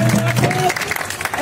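Crowd applause for a school students' street play about coronavirus awareness, a burst of clapping that follows a brief voice and carries on steadily to the end.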